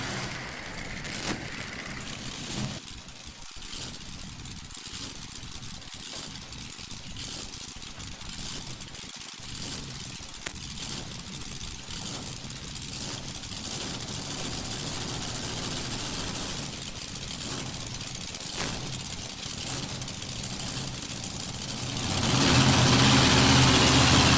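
Chevrolet truck engines idle steadily at a farm machinery show, a low rumble with faint mechanical ticking, swelling louder near the end as they rev up.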